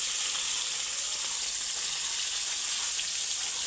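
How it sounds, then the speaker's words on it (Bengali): Puti fish frying in hot oil in a wok, a steady, dense sizzle and crackle that holds at an even level throughout, close and alone with no voices. "তেলটা পুরো গরম হলে মাছটা কড়াইয়ের মধ্যে লাগবে আর কি"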